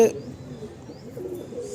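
Pigeons in a home loft coo softly and continuously, close by, with a brief sharp chirp at the very start and a voice faintly present.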